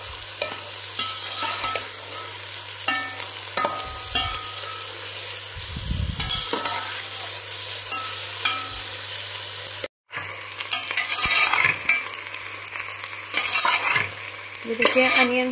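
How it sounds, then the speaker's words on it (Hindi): Two large onions frying in hot oil in a pan for a mixed vegetable dish, a steady loud sizzle with repeated scraping stirs, a brief break midway, then more vigorous stirring and clinks. "लेकिन अभी हम इसको 5 मिनट तक फ्राई करेंगे ताकि ये गोल्डन ब्राउन शेप में आ जाए"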